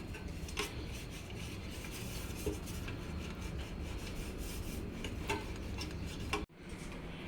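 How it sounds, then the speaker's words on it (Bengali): Ghee is rubbed around the inside of a baking tray, giving a steady, close rasping scrape that runs continuously for several seconds before cutting off abruptly near the end. "সেই বেকিং ট্রের মধ্যে একটু ঘি ভালো করে ভেতর দিকটা মাখিয়ে নিচ্ছি।"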